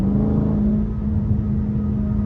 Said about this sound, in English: if y'all want to get that little bit of like that whine from the quarter intake